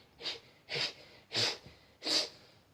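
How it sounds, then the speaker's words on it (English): Four sneezes in a row, spaced roughly evenly, each a sharp breathy burst. They are performed in a reading of a children's story about a character who cannot stop sneezing, over faint background hiss. "sneezed Mr. Sneeze"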